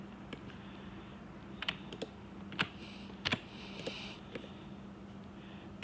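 Faint, scattered clicks from a computer mouse and keys tap irregularly over a quiet background hum while working in Blender.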